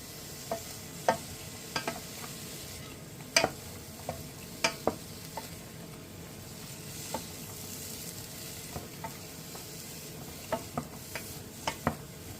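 Chopped onions and celery sautéing in a pan for a sprout soup, with a steady soft sizzle broken by scattered clinks and scrapes of a utensil stirring, close and without talk.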